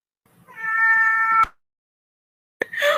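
A domestic cat lets out one long, close, loud meow, then falls silent before a second call begins sharply near the end.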